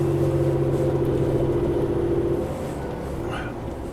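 A truck's exhaust brake works hard, giving a steady, loud low drone with strong tonal bands for a few seconds, then easing to a rougher, quieter rumble near the end.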